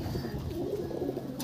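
Pigeon cooing from a collection of Delhi-bred pigeons kept for sale, a soft continuous low murmuring coo close by, steady throughout the short stretch without talk.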